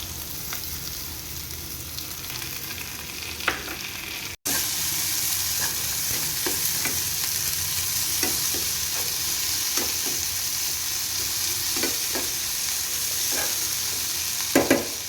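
Grated raw mango sizzles steadily in oil in a pan for raw mango chitranna, with the spatula's scattered scraping clicks as it is stirred; close and continuous, with no voices.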